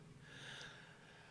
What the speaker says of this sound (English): If you guys hear snoring, it's my dog outside my door.